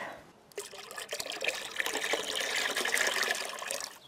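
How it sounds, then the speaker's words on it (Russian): Water mixed with leftover red wine trickles and splashes steadily onto heather plants in a garden, a continuous pour lasting a few seconds. "я воспользуюсь остатками красного вина, разбавлю в воде и полью"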